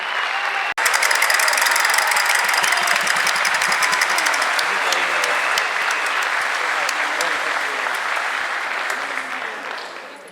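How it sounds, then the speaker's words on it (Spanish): Sustained audience applause and cheering for an accordion group, a dense crowd clapping loudly from start to finish with a sharp knock near the beginning, slowly tapering toward the end. "Aplauso para ele."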